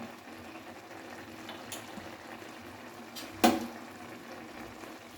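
Steady low bubbling of vermicelli simmering in water in a pot, with a brief clink of a utensil partway through.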